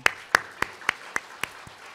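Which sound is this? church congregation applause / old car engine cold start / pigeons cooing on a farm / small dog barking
church congregation applause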